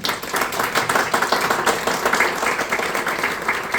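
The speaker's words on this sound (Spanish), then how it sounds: "Un gran aplauso para don Hugo Muñoz Villanueva." Steady, dense applause from an audience at a book event honoring an author, continuous and fairly close for the whole stretch with no talk over it.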